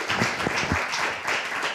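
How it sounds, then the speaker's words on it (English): A short burst of audience applause for panelists at a discussion event, steady and moderately loud, with a few distinct claps near the start. "Everybody, please give a warm round of applause to the panelists today."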